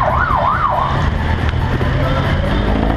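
A police siren wails on a busy Manila street at night, a loud rising-and-falling tone over dense traffic rumble, fading after a couple of cycles.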